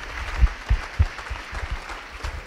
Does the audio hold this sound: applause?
yes